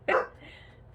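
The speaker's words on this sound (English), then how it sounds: "my dog's gonna bark" A dog gives a single short, fairly loud bark close by indoors during a crochet session, followed by quiet room tone.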